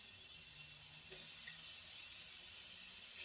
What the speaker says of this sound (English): So here are my meatballs. They're ready to go in my preheated skillet